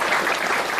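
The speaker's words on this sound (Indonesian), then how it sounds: "Tepuk tangan kok." Applause from a seminar audience, a dense, even patter of many hands clapping together, fairly loud and continuous, with no voices over it.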